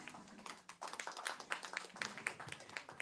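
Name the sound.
audience applause for the gentlemen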